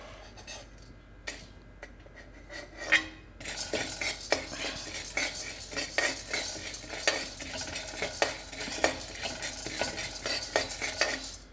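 Roasted gram is stirred in a pan, a utensil scraping and clattering in a quick, irregular rhythm over a soft sizzle, close and fairly quiet, with a short sparser start before the stirring picks up.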